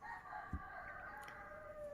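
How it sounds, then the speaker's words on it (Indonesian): A rooster crows faintly in the distance, a thin drawn-out call over quiet room background. "Sorry, suara ayam."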